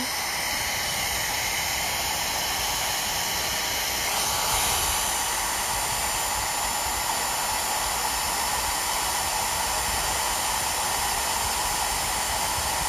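A hair dryer blows steadily to dry craft paint on wooden earrings, a loud, constant close-up whoosh and hiss that lasts throughout.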